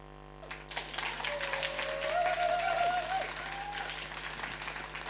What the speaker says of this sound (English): one last final round of applause to our lovely winners